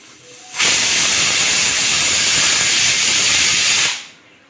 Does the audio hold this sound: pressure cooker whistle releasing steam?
yes